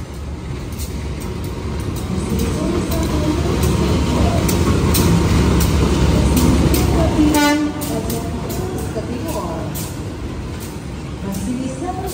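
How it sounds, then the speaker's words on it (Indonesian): The Matarmaja passenger train from Pasar Senen to Malang rumbles into a station on track 1, loud steady rolling noise with a horn toot midway, then a quieter clatter as it slows. "akan segera masuk di jalur 1 kereta api Matarmaja dari Pasar Senen tujuan Malang"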